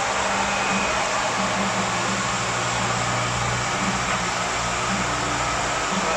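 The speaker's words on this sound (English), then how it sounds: "As soon as I hear it clip, cut in, I'm pulling the clipper out." Electric hair clipper cutting a skin fade, heard as a steady, loud, close buzzing drone that holds without a break throughout.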